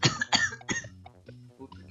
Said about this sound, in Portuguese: mas dessa vez com tosse